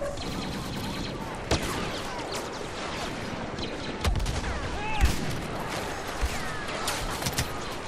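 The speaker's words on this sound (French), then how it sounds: "t'entends le bruit de l'arme qui chauffe et tout" Blaster weapon overheating during a Walker Assault battle in Star Wars Battlefront, rapid laser shots and sharp bursts with sweeping whines amid continuous combat noise.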